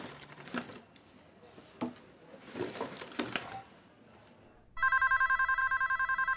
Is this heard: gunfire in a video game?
no